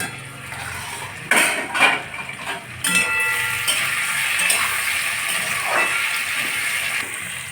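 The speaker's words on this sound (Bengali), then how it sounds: "ঢাকনাটা উঠিয়ে নিচ্ছি।" A lid lifted off a pan of cooking sweet pumpkin, with a few metallic clanks and scrapes followed by steady soft sizzling and bubbling from the pan.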